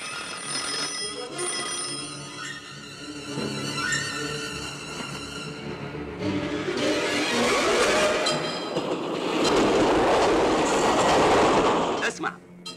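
Train passing on a railway track, a loud rumbling roll with rhythmic clatter and ringing metallic tones that swell into a heavy close rush near the end before fading, with voices in the background.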